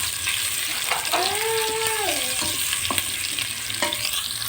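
Potatoes fry in ghee in a pot, producing a constant close hiss with scraping stir sounds and a sliding tonal squeak partway through, with no speech.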